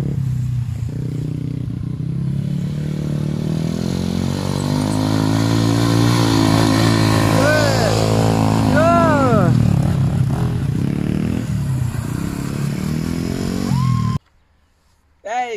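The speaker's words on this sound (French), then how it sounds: "Armand il est en full power là sur la mini électrique là." Electric mini motocross bike at full power during a family motocross session at a track, a loud continuous whine with rising and falling pitch sweeps that stops abruptly near the end, with people talking over it.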